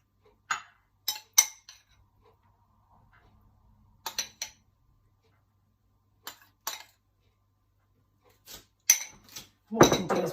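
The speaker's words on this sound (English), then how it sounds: "So then all we do is just mix the tzatziki together." Tzatziki dip being stirred in a bowl, heard as sparse, sharp clinks of a spoon striking the bowl in small clusters separated by silence, ending in a louder scrape.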